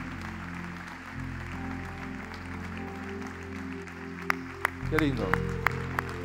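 A church congregation claps during a Sunday service, scattered sharp claps building over sustained organ or keyboard chords while a voice speaks over the music.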